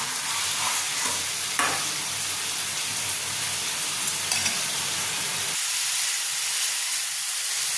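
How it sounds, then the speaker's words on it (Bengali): Potatoes fry with spices in a pan, giving a continuous close sizzling hiss with a few soft stirring scrapes; the hiss drops a little near the end. "এবার মশলার সঙ্গে আলুগুলোকেও একটু কষিয়ে নিচ্ছি।"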